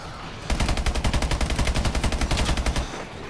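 Automatic gunfire in Call of Duty: Advanced Warfare Exo Zombies, a steady rapid burst of shots lasting about two and a half seconds, loud and close with no talk over it.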